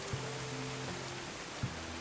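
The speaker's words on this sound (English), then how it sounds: "It's been raining a ton lately." Steady rain falling in the medieval colony-building game Going Medieval, a constant hiss with low tonal game ambience beneath and a couple of soft thuds, heard alone.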